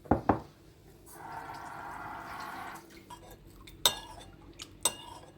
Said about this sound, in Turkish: etlerimizi ekledikten sonra bir kaşık salçamı suyla eriteceğim